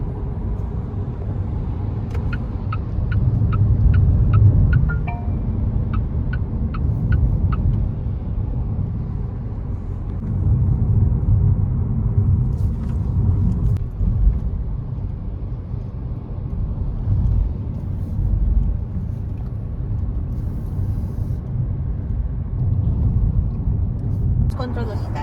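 A Geely EX2 Max electric car cruises along an expressway in the Philippines, heading onto SCTEX from NLEX, with a steady rumble of road and tyre noise inside the cabin and a voice talking over it.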